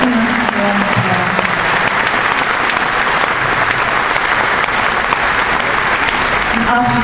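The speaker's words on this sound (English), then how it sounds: "Give them a warm applause." Audience applause at an outdoor liberation festival performance, a steady dense wash of clapping filling the whole stretch, with a host's voice briefly audible at the start and end.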